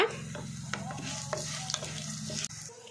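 Urad dal, coriander seeds, cumin and fenugreek frying in a pan, heard as a soft continuous sizzle with occasional scraping clicks of a spoon against the metal, close and fairly quiet, alone without talk.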